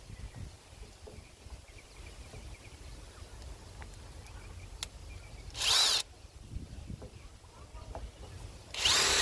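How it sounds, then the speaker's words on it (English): Two short, loud whirring bursts of a power drill with a 7/8 bit boring a hole for a pipe, separated by several seconds of quiet background noise. "this is the drill that I'll be using to make the hole for the pipe"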